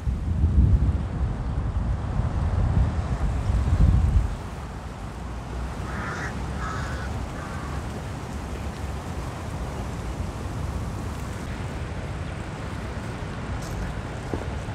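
Wind gusting across the Durban beachfront, buffeting the microphone with a loud low rumble that eases after a few seconds into a steadier rushing noise, with faint distant calls heard briefly.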